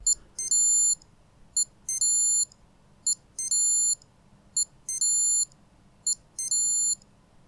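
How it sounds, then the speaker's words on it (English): Digimon Twin virtual pet toy beeping in repeated bursts of rapid high-pitched electronic tones, about five rounds evenly spaced, loud and clear with no talking. "You just started beeping."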